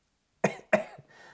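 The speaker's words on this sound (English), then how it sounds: "Man, I got to stop coughing." Two harsh coughs from a man, close and loud, each trailing into a short rasp, followed by a faint breathy exhale.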